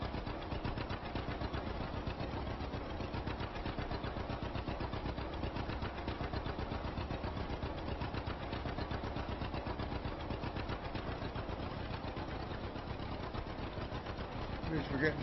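A tractor baling hay in Farming Simulator 25 runs with a steady, rhythmic mechanical chugging of engine and baler, unbroken for the whole stretch at moderate loudness.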